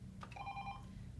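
A desk office phone plays a ringtone preview, a short electronic ring with steady tonal notes lasting under a second, faint and close over a low room hum.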